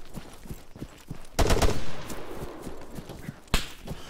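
Gunfire in the military shooter game ArmA 3: scattered sharp shots and a louder burst of rapid fire, then another crack near the end, all without talk.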